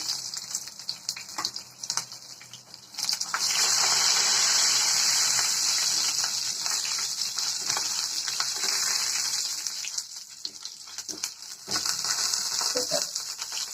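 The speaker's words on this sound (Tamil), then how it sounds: "அதில் கடுகு, உளுந்த பருப்பு, ஜீரகம், கடலைப்பருப்பு தாளிச்சுக்கலாம்." Mustard seeds, urad dal, cumin and chana dal temper in a hot pan for wheat adai. A steady close sizzle swells loudly with crackling pops, eases off, then picks up again near the end.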